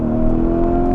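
A 2022 Lamborghini Urus accelerating hard uphill, its engine producing a loud, sustained rising drone with strong steady tones, close and continuous.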